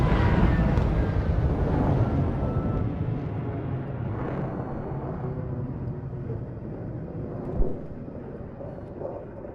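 A plane passes low overhead in a War Thunder battle, its broad engine drone loud at first and then slowly fading into a distant rumble, with a brief thump partway through.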